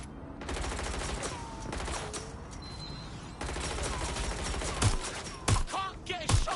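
Bursts of gunfire from the video game Watch Dogs Legion crackle repeatedly through a dense game soundscape, with sharper shots standing out near the end.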